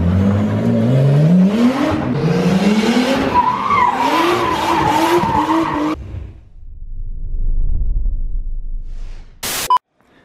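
A Lexus IS200 used as a skid car, tires squealing in long wavering screeches with engine revving for about six seconds, then a quieter rumble and a brief sharp burst near the end.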